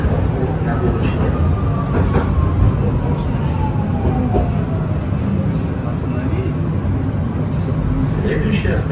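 Steady rumbling and rattling of a tram in motion, with a faint whining tone gliding downward, continuous noise throughout and no pauses.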